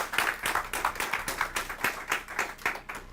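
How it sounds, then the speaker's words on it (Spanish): Church congregation applauding at a service, a steady run of rhythmic clapping that fills the whole stretch at moderate volume with no talk over it. "Denle un aplauso al Señor."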